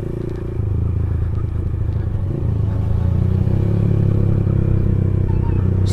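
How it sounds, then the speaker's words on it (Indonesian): A Honda GL motorcycle idles nearby with a loud, steady low rumble that firms up slightly partway through, with no clear revving. "Udah tambah motor satu GL nih geng"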